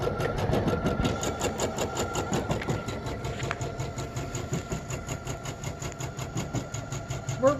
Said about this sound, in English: Speed that guy up a little bit like that, and there he goes.